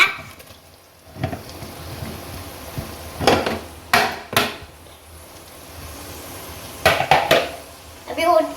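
Paneer cubes go into a pressure cooker of fried onions for paneer biryani, giving sporadic metallic clinks and scrapes of a spoon against the pot, with short clusters of clatter between quieter stretches.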